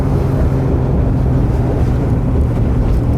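Supercharged Acura NSX engine heard from inside the cabin at about 3000 rpm, a loud, low, steady burbling drone with rumbling texture, no voices.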